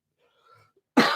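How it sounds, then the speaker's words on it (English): A single sharp cough from a person with pneumonia, close and fairly loud, preceded by a brief faint murmur of background sound. "so that's why I'm going to be coughing"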